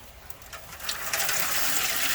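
Water gushes into an indirect pan set inside a Green Egg ceramic grill over lit lump charcoal, a splashing pour that starts softly and grows louder and steadier toward the end.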